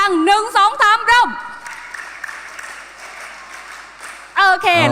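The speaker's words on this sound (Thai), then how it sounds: "ปรบมือนะ" A group at a Thai youth road-safety event claps together between a speaker's amplified prompts, a fairly steady wash of clapping in the middle that fades under the returning talk.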